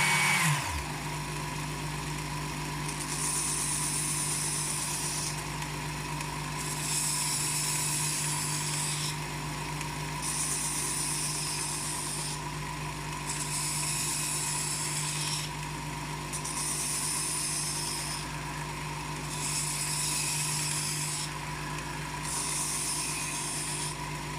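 A continuous motor hum with a steady abrasive whirr from an electric knife and tool sharpener, a knife blade pressed against a smooth polishing belt in repeated passes that rise and fall in intensity.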